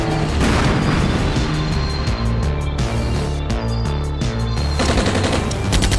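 Tank gunfire and rapid automatic fire in the tank battle game Armored Brigade II, loud, dense and continuous, with repeated heavy booms and clattering bursts filling the whole stretch.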